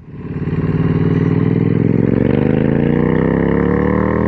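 Triumph Street Twin 900 motorcycle with a TEC 2-into-2 exhaust revs up from idle, its engine note climbing smoothly and holding loud and close for several seconds.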